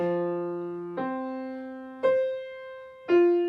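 Four separate piano notes struck slowly one after another, each ringing and fading before the next, close and clear with no voices.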